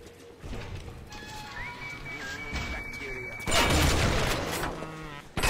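Shotgun blasts and crashing impacts from a fight in the video game Bioshock Remastered, loud and dense toward the end, layered with game music tones and ambient effects.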